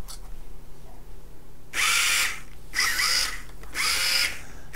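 Small DC motors of an Elegoo smart robot car spinning its wheels, three bursts of high-pitched whirring, each roughly a second long and separated by short pauses of quiet hum.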